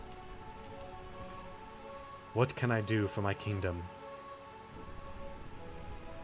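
Game rain pours in the Realm of Eternal Rain zone of Final Fantasy IX: a low, continuous patter throughout, with a person speaking briefly over it midway.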